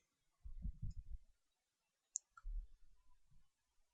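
Two separate mouse clicks in SPSS statistical software, sharp and brief, spaced about a quarter second apart, with low muffled handling noise before and after them.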